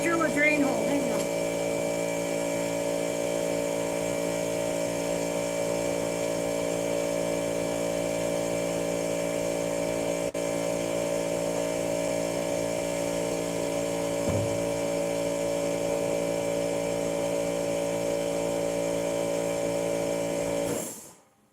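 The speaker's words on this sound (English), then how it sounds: "Oh, I gotta drill a drain hole." A power drill bores a drain hole in a worm bin with a steady, loud, whining buzz that holds for about twenty seconds before cutting off abruptly.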